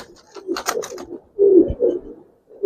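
Giribaz and coloring pigeons coo nearby in short, soft, throaty bursts separated by brief pauses.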